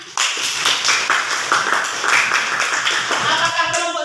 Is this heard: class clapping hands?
yes